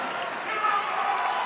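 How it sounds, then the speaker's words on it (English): A crowd at a grip strength event cheers and claps, a dense continuous wash of applause and voices with a commentator speaking over it. "And listen to the crowd start to react"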